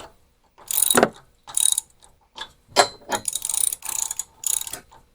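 Ratchet wrench spinning cylinder head bolts down on a cheap generator engine, heard as several bursts of rapid clicking separated by short pauses, close and fairly loud.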